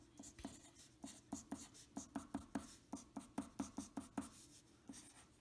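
A pen or pencil scratches out a musical scale by hand, quick short strokes in irregular bursts, faint and close with no talking.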